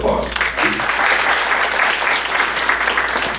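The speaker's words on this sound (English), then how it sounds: "Round of applause." An audience at a community college town hall claps in a steady, dense burst of applause lasting a few seconds, fairly close and loud.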